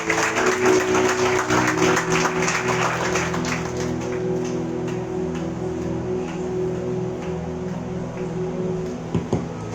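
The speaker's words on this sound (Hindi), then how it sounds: "We will clap our hands." A church congregation at a Sunday worship service clapping hands in a burst of applause that fades after a few seconds, with a sustained musical drone underneath.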